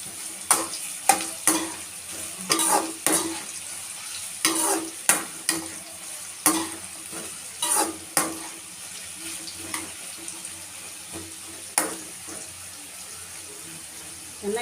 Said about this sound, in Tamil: எண்ணெயில் நல்லா வதக்கணும்.